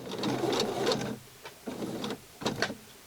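Sewing machine stitching doll clothes in short bursts, three close runs of rapid mechanical whirring separated by brief pauses, fairly quiet and alone.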